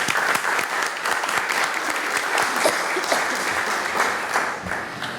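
Steady, dense applause from a seated audience at a university colloquium welcomes an invited doctor to the podium, filling the room evenly for several seconds.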